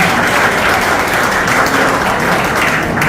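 A crowd at a horse-racing trainers' retirement and award ceremony applauds, a dense and continuous patter of many hands clapping throughout, fairly loud and sustained.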